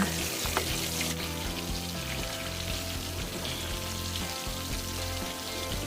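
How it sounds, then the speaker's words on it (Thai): Steady, crackling sizzle of sea bass frying in hot oil in a pan, continuous and close with a low background hum. "ให้ปลาค่อยๆสุกทีละด้านนะคะ อย่าพึ่งกลับนะคะ"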